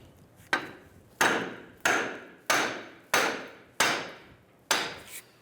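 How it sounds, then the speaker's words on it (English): Seven evenly spaced, sharp metallic blows from a metal sledgehammer driving a Honda Element CV axle shaft back through the steering knuckle splines, each strike ringing briefly before the next. "We're going to use a metal sledge to push our shaft back through the splines here of our knuckle."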